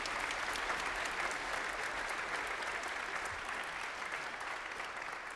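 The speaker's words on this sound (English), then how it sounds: "a little round of applause if you don't mind" Steady, quiet applause from a classroom music audience for violas and cor, an even wash of many hands clapping at a distance without any speech.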